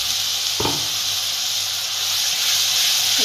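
Spiced masala with curry leaves hisses and sizzles steadily as it roasts in a hot pan, a loud continuous fry with a brief clatter near the start, probably from stirring, and no voices.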